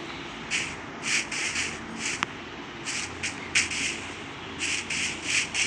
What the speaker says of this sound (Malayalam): നമുക്ക് വേഗം തന്നെ ഒരു മരം മുറിച്ചിട്ട് സ്റ്റാർട്ട് ചെയ്യാം